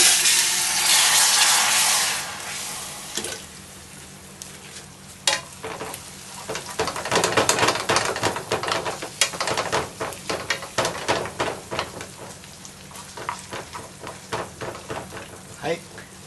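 Onions browned in a pan for curry sizzle steadily as garlic is added, with scraping and clinking stirring strokes in an irregular rhythm and a voice speaking now and then.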